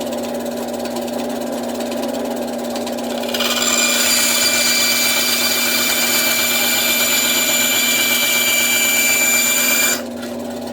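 A Craftsman 9-inch bandsaw, repaired again, cuts aluminum stock: a steady machine hum runs throughout, then a loud, sustained whining screech with ringing metallic tones rises from the cut for about six seconds before dropping back to the motor's hum.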